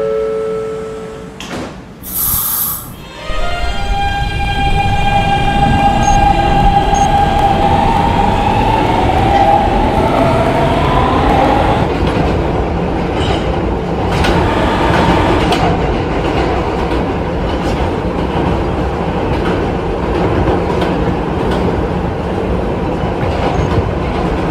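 A D train in the Roblox game PTA Subway pulls out and runs, starting with a door chime and tone, then a rising motor whine over a loud, steady rumble of wheels on rail with faint rhythmic clicks, close and continuous.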